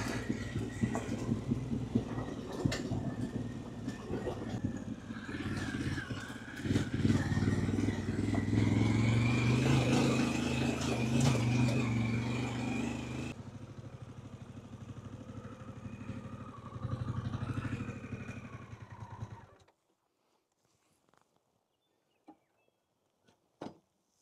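A Harley-Davidson Pan America motorcycle riding down New Zealand back roads on the Coromandel Peninsula, its engine droning and rising under wind rush, then easing off and dropping to near silence with a few faint clicks.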